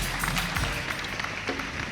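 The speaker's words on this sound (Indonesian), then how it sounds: "Tepuk tangan sekali lagi untuk Mas Menteri Sandiaga Salahuddin Uno" A crowd at an evening awards ceremony for Indonesian tourism villages applauds Minister Sandiaga Salahuddin Uno, a dense, even wash of clapping heard from within a large hall with a low rumble beneath, no voices over it.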